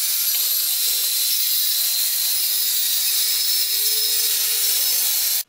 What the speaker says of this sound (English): on the underneath side we're going to take a skill saw and cut a kerth in it right down the middle here